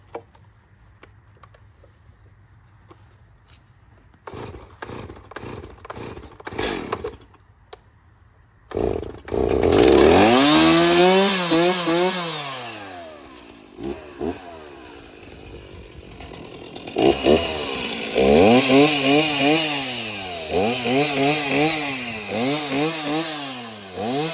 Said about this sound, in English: Thanks to Saker for sending us this chainsaw to test out.